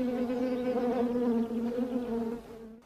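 Honey bees buzz near a saucer of sugar water, a close, steady droning hum with slightly wavering pitch that swells and dips for a few seconds before fading at the end.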